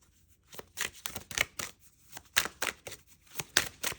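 Glossy cards are riffled and shuffled repeatedly in quick, crisp bursts, close up, with short pauses between shuffles.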